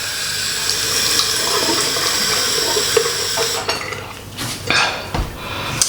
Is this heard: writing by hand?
no